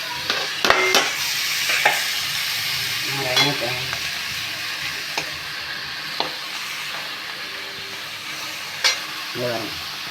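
Carrots and other vegetables sauté in a pan for a spiced cowpea dish, with a steady close sizzle and repeated scrapes and clinks as a spatula stirs them.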